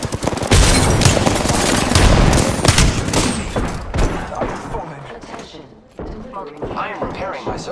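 Dense, rapid bursts of automatic gunfire and booming blasts from a shooter video game, loud and continuous, with in-game voice callouts talking over the shooting.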